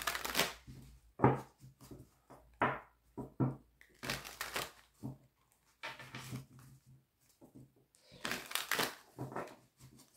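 Oracle cards being shuffled in several bursts of papery riffling and soft slaps, close and fairly quiet, with short pauses between the rounds.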